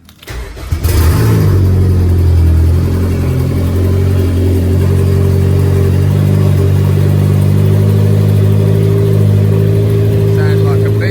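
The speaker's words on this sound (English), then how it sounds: "Sounds like a beast." A Honda EG fitted with a K20 engine in an AWD build starts up and then runs with a loud, close, steady rumble. It settles into a strong, even drone that lasts to the end.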